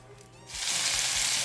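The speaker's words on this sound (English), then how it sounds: "all the juices that are in this hamburger are going to cook the bottom side of the tortilla" Hamburger and a tortilla fry in a pan over medium-low heat. After a brief quiet moment, a loud, close sizzle suddenly starts and holds steady.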